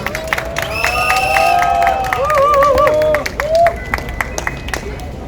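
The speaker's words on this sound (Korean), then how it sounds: "큰 박수를 한번 모시도록 하겠습니다" A crowd at an outdoor candlelight protest rally claps and cheers loudly, with whoops and shouting voices over the applause, which fades into scattered claps.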